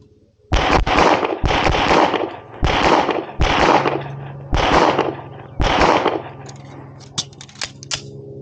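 Six loud, close gunshots fired at nearby shooting targets, spaced roughly a second apart with a steady rhythm, each crack followed by a short ringing tail, then quieter rustling afterward.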